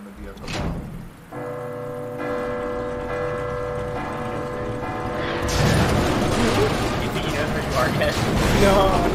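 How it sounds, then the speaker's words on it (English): The fog tower bell in Resident Evil 2 rings with a sustained, resonant metallic tone over mechanical clunks. Later it swells into louder clanking and rumbling while people talk over it. "It's gonna ring the bell."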